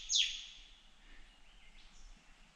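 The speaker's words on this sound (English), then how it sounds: "is a rufous scrub-bird" A rufous scrub-bird sings from about 20 metres away in Oakes State Forest, a loud sharp burst of high chirps at the start trailing into fainter, thinner calls.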